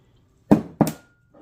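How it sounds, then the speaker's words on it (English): Ice water poured into a ground meat mixture for homemade spam: two short, close splashing pours about a quarter second apart, then a faint trailing sound, with no talk. "we're going to add 3 ounces of ice water"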